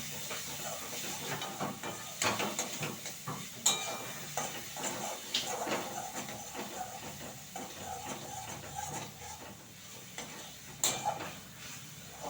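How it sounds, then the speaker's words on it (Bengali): Onion, garlic, cumin, coriander, turmeric and whole spices frying in a pan, a soft continuous sizzle and hiss with occasional stirring clinks against the pan, close and moderately quiet. "আমি একটু মশলাটা ভেজে নিয়েছি।"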